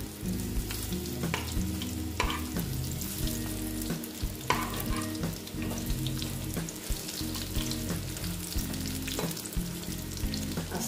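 Malabar spinach (pui shak) pakoras fry in hot oil, giving a steady close sizzle with crackling pops and occasional stirring clatters throughout.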